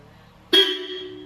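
A single loud horn blast sounds suddenly after a quiet moment, holding a steady tone for most of a second.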